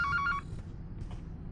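A video game telephone rings in a childcare setting, a short burst of electronic ring tones, then a pause with low background hum and faint tones.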